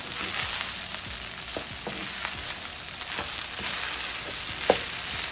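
Pineapple shrimp fried rice stir-fried in hot oil, a steady close sizzle broken by small scraping and tossing clicks of the spatula, with no talking.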